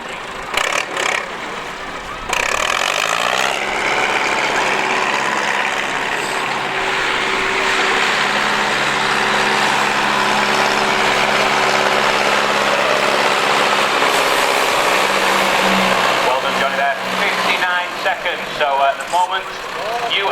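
Scammell tractor unit idling at a truck show, a loud, steady low diesel rumble held close and continuous, with voices and crowd noise over it.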